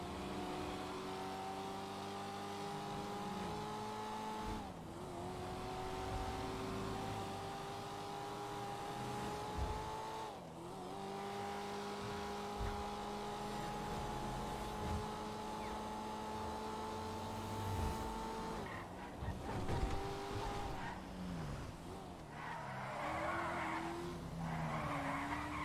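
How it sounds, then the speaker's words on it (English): Fast car driven in Grand Theft Auto 5, engine tone steady and revving through repeated gear shifts with occasional tire skids, loud and continuous with no talking. "It's a nice fast car too."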